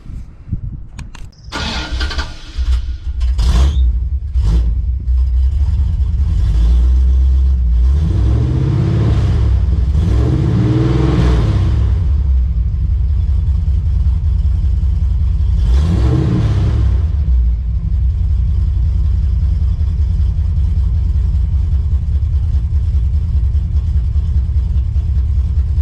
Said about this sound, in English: So I like the sound of the Flowmasters just a little bit better than the Powerstick mufflers